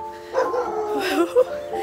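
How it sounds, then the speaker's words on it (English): A dog barks and yips a few times at a distance, short high calls mixed with faint background voices. "Misha's barking."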